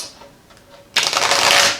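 A deck of tarot cards is shuffled by hand, a close, loud riffling burst that starts abruptly after a quiet moment and rustles on continuously.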